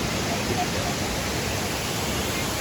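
Yeşilköy waterfall gives off a continuous, even rush of falling water, a steady broadband roar that fills the whole stretch with no pauses.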